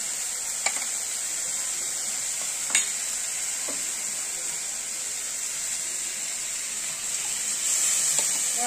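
Green chillies sizzle in hot oil in a pan, a steady bright hiss throughout with a few soft clinks of stirring, close and fairly loud, with no talking.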